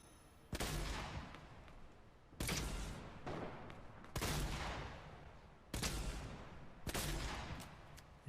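An exotic pump shotgun fires in the video game Fortnite, with five loud, booming blasts spaced about one to two seconds apart. Each blast leaves a long, rumbling tail, and no one speaks.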